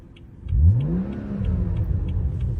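A BMW 335i engine revs in neutral from a stationary car, a sharp rise in pitch then a steady, rumbling hold at mid volume, close by with no talk over it.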